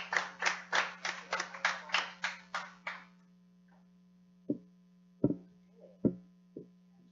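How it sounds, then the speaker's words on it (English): A handful of people in a small studio clap about ten times in quick succession, then a few scattered single claps follow, all over a steady mains hum. "Give her a round of applause"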